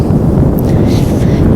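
Strong gusts of warm wind at a beach buffet the microphone in a loud, continuous low rumble.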